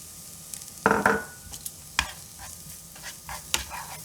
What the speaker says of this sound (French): là j'ai rajouté un tout petit peu de beurre et on va faire revenir nos échalotes.